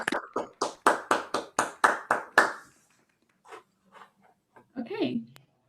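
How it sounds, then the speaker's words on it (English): Seminar participants clap together over a video call, a burst of about ten sharp, evenly spaced claps that stops abruptly, followed by near silence with faint scattered noises and a brief voice. "Everyone, let's unmute and then we'll clap."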